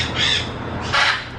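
Parrot in a beach shop on Anna Maria Island giving two harsh, raspy squawks close to the microphone, separated by a brief pause, over quiet room noise with no talking.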